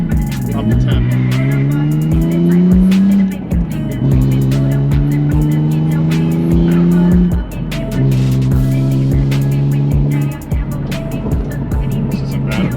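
A BMW E46 M3 with a Valvetronic exhaust, valves closed, pulls through several low-RPM gears from inside a stripped half-cage cabin with no rear seats. The drone rises steadily in each gear, breaks at each shift, and stays loud and close, with occasional talking.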